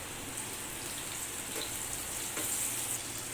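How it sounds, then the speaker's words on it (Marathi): Onion and tomato sautéing in oil for a Konkan-style masala produce a soft, even sizzle that runs unbroken and fairly faint, with a few light ticks from stirring and no voices. "यासाठी प्रथम आपण तेलामध्ये कांदा परतवून घेऊया यानंतर यामध्ये एक टोमॅटो परतवून घेऊया"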